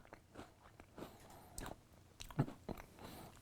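Someone bites into a new 2020 Oreo cookie with extra fudge coating, giving a few soft, close crunches and chewing sounds, faint and without talk.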